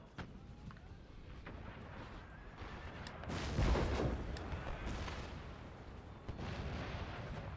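Repeated cannon and artillery booms from a Napoleonic-era battle in Empire: Total War, with a heavy burst building near the middle over a dense, rumbling battle din, and a voice faintly in the background.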